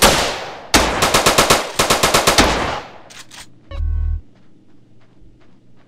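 Bursts of automatic machine gun fire in GTA San Andreas played in first person, loud rapid rattling volleys in two long strings, then scattered gameplay sounds and a brief vocal exclamation.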